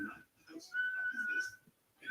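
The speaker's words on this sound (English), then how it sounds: "Man, I'm really getting good at whistling." A person whistles a steady, fairly faint tune in short phrases, with one long held note in the middle, and some talking mixed in around it.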